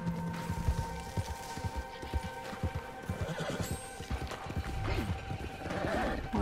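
Horse hooves clip-clop in an irregular rhythm over a steady background drone, with a horse whinnying partway through, in the video game Red Dead Online.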